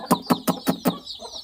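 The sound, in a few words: hens clucking on a poultry farm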